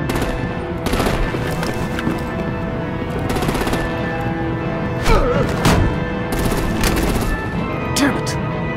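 Artillery and automatic gunfire in the Batman: The Telltale Series video game rattle in dense, continuous bursts with heavy thuds, loud and close, while voices shout over the barrage.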